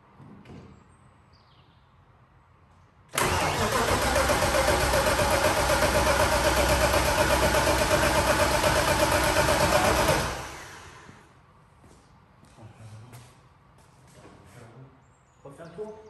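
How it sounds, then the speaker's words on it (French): A rebuilt BMW M50B25 turbo car engine cranks with a loud, sustained, grinding roar lasting about seven seconds, then cuts off abruptly, leaving only quiet background noise before and after. "juste histoire de faire tourner la pompe à huile, qu'elle lubrifie un peu tout le moteur, là, avant de tenter de démarrer"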